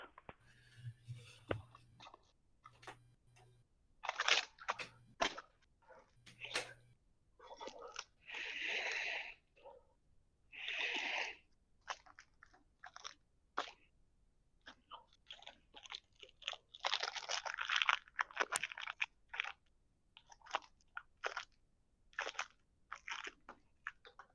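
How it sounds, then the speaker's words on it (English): Crunchy food chewed close to a microphone, with long stretches of loud, irregular crunching and munching broken by short pauses and a few faint clicks. "I want to hear you chew"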